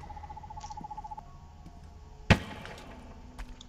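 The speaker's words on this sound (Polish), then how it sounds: "mam jakąś sowę" An owl hoots faintly in the Perception horror video game, soft and distant over a quiet ambient bed, with a sudden loud thud partway through and a light knock near the end.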